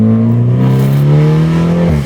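A BMW 330i engine pulls hard under acceleration, a loud, close, steady drone that climbs smoothly in pitch for about two seconds before easing at the end, with no voices.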